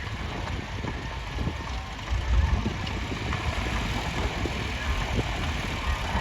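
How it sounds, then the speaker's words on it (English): A diesel tractor engine runs steadily at a steam fair tractor parade, a continuous low rumbling drone with faint background crowd noise and no clear talk over it. "Diesel engine in there. Very, very reliable tractor."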